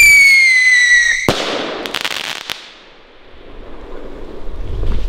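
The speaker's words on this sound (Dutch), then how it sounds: "Original Fireworks. Die vind je nooit meer, jongen. Trueno Rocket." Trueno Rocket firework launching with a rising whistle that ends in a sharp loud bang, followed by a few crackling pops and a fading rumble outdoors.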